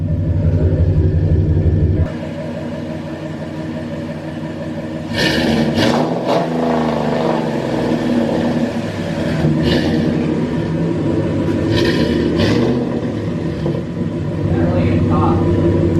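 A Hemi Ram pickup fitted with an MBRP catback exhaust rumbles at idle, then revs several times in short blips with a deep throaty roar, loud and close, with people talking around it.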